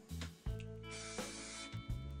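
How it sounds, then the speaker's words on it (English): A spray bottle spritzes onto a section of hair at the bangs, giving short, close, hissing bursts over a steady low electrical hum. "So I'm gonna spray this with this spray."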